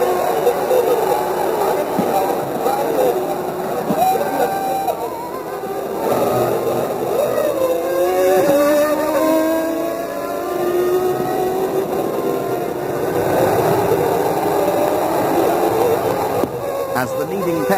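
Formula One race cars, including Berger's car with Schumacher's Benetton right behind, roar past with rising and falling engine pitch, loud and continuous beneath a commentator talking throughout.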